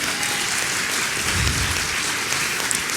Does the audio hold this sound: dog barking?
no